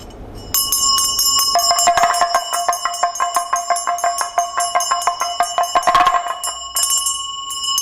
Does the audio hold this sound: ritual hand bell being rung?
yes